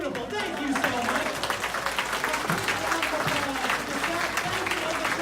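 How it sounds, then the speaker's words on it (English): Audience applause after a choir concert song, dense sustained clapping from a seated crowd filling the hall at moderate level, with voices mixed faintly underneath. "Applause for the audience."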